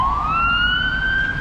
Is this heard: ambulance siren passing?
yes